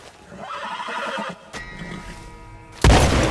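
A horse in the video game Red Dead Redemption 2 lets out a long, wavering neigh close up, followed by a second whinny and a loud snort or blow at the end.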